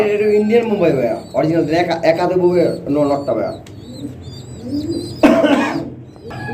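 Fancy Indian pigeons coo in a loft, repeated throaty rolling coos close by, partly overlapped by someone talking, with a sharp clatter near the end.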